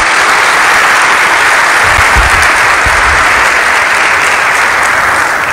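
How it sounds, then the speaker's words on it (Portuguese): A church congregation applauds in a continuous, loud wash of clapping that stays steady from start to finish. "Você quer aplaudir o Senhor? Pode fazer isso."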